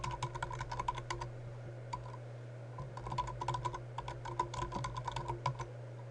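Quick bursts of close, quiet clicky keystrokes on a computer keyboard, with short pauses between runs over a low steady hum.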